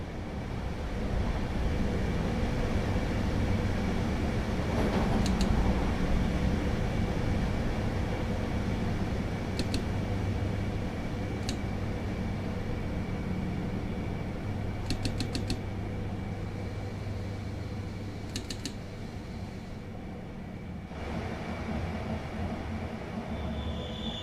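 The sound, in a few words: electric train braking to stop, video game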